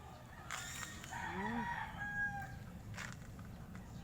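A rooster crows once at a distance, a rising then drawn-out call over faint background hum, followed by a couple of soft clucks.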